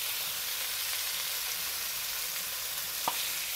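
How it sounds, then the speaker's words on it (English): Garlic and shallot fry in oil in a pan, giving a steady, close, even sizzle with no breaks. A single brief clink or scrape of a utensil comes near the end. "I'll start to fry our garlic and shallot"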